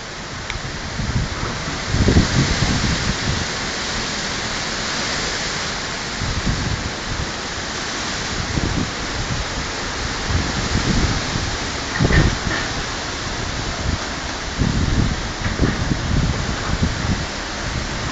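Typhoon heavy rain roars steadily with strong gusting wind, low rumbling thuds and rattling bursts breaking through the dense wash of storm noise.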